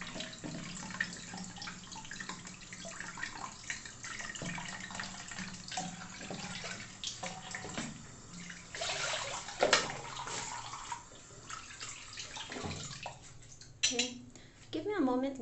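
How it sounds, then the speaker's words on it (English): Tap water runs steadily into a sink while someone washes their face, a continuous close splashing wash with occasional louder splashes and brief talking over it. "I will wash my face"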